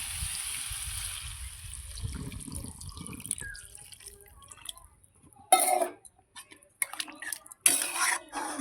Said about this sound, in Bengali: এবার আমরা জল দিয়ে দেবো।